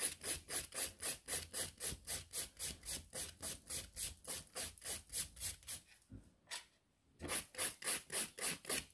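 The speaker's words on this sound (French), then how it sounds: "on vient terminer le limage" Nail file working over a gel nail in a French reverse manicure, a close rhythmic rasping of regular back-and-forth strokes, briefly pausing before the steady scraping resumes.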